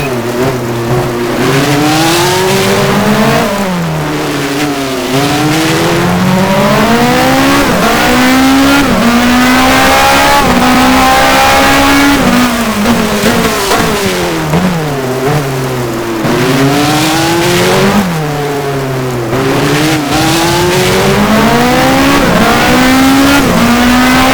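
A race car in F1 Challenge, a 1986 US Grand Prix at Detroit in the wet, revs loudly with engine pitch sweeping up and down through repeated gear changes as it heads into the pit lane.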